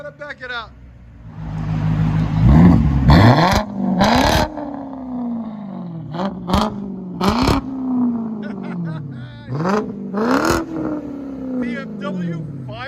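A 2005 BMW 545i with a 4.4L V8 and straight-pipe exhaust revs hard several times, each loud, close blip rising and falling, with people talking over and between the revs.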